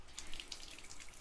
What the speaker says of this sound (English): But first, a shower.